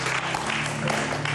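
Studio audience on a Bulgarian deal-or-no-deal style game show breaks into steady, dense applause, a continuous wash of clapping that fills the whole moment with no pauses.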